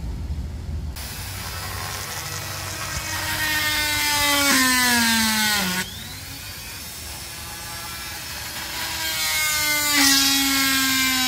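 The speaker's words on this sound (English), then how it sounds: "I have to do is to drill holes in these, ready to accept the screws. And I have the Dremel again." A high-pitched Dremel rotary tool whines as it drills holes in Ford door panel trim, its pitch dropping under load then rising again, with grinding bursts as it bites into material.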